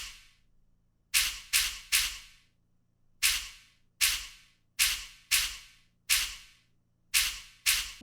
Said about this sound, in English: And then I have the that stomp sound